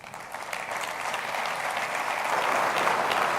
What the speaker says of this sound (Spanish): Lo recibimos ya con un fuerte aplauso.